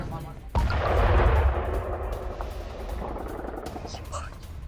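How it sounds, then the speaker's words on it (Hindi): A deep, heavy boom hits suddenly after a drone attack, then a long rumbling roar that slowly fades, distant and outdoors. "ड्रोन अटैक के बाद जोरदार धमाका हुआ है।"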